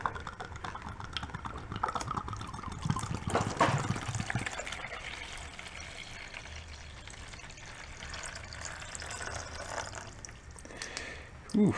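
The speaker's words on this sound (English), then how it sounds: "Let me pour the acid out." Acid pours and trickles out of the tank of an old engine-powered blender salvaged from the trash, a steady liquid splash with a louder gush around the middle, with faint talk underneath.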